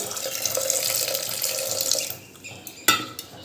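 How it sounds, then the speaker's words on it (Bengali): Water pours steadily into a cooking pot of chickpeas and peas for ghugni, a close, continuous splashing stream that thins out and ends with a sharp metallic clink and a few light knocks. "এবারে দিয়ে দিচ্ছি পরিমাণ মতো জল"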